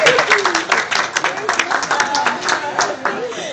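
An audience at a live comedy reenactment breaks into dense, lively applause that runs without a break, full and close, with crowd noise mixed through it.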